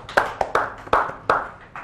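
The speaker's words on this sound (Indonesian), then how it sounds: "Boleh tepuk tangan sekali lagi ya" Hands clapping for a forensic medicine specialist at a talk, five sharp separate claps at a slow uneven pace, close and clear with no voices, more like one or two people than a full crowd.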